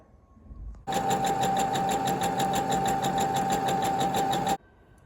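A sewing machine stitches the waist seam of a home-made garment being altered, running in one steady close-up burst of about four seconds that starts and stops abruptly, with no talking.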